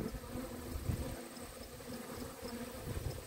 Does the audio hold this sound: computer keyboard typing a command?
no